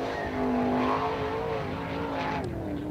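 An All Star sprint car at Attica Raceway Park comes off turn 4 to take the checkered flag, its engine a loud, sustained, high-pitched roar whose note climbs and shifts as it races past up close.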